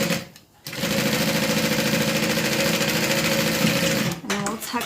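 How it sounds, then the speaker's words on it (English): Close and loud, a sewing machine stitches a reversible scarf's lining closed in one unbroken run of a few seconds, with short quiet gaps at the start and the end. "we're gonna go ahead and sew that lining closed"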